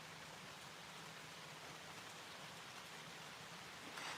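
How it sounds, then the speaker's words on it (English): Rain falls steadily under a big black cloud with the sun still out nearby, a faint, even hiss of drops throughout that swells slightly at the very end. "can you hear the rain?"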